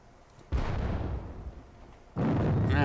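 Cannon fire booms in a Napoleonic battle video game, two heavy artillery blasts a second and a half apart, each a loud rumbling roar that lingers, the second followed by a trailing whoosh.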